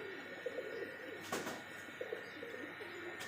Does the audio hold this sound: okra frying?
no